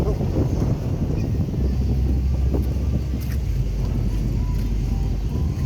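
Strong wind buffeting the microphone outdoors at Luneta park, a continuous low rumbling roar with gusty fluctuations and faint background activity.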